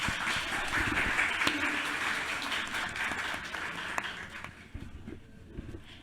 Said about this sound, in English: Please give them an introductory round of applause.